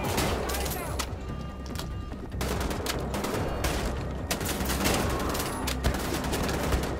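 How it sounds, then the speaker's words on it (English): Gunfire in the video game Wolfenstein: The Old Blood, repeated sharp shots and short bursts scattered across a dense, noisy battle mix, fairly close and loud throughout. "Just shut up and watch me shoot people."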